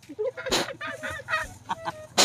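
Chickens clucking at close range in short, irregular bursts, with a couple of louder squawks standing out, the calls forming a busy and uneven run that carries on without any voices.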